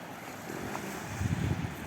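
Waves breaking and washing over slippery stones on a pebble beach at Kumbağı, Tekirdağ, a steady outdoor roar with wind buffeting the microphone and a stronger surge near the end.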